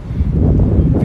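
Strong outdoor wind buffets the microphone in a steady low rumble, loud and continuous for the whole moment, with no voice over it.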